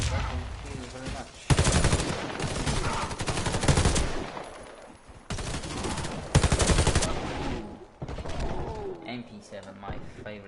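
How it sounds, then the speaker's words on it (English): MP7 submachine gun fired in the shooter game Warface, heard as dense rapid automatic bursts in several long strings separated by short pauses, loud and close, with game sounds between bursts. "MP7, my favorite SMG in this game."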